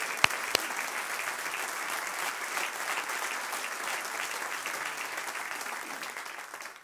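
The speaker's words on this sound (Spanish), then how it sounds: "¡Un aplauso!" Church congregation applauding during a Sunday service, steady dense clapping that holds at an even level throughout, with no voices rising above it.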